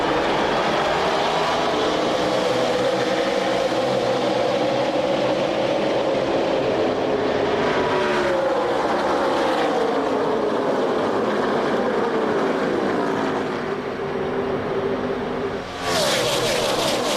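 A full field of 43 NASCAR stock cars roars away at the green-flag start of the 400-mile 2005 USG Sheetrock 400 at Chicagoland, a dense continuous engine drone with pitch sweeps as the pack passes, loud and steady throughout.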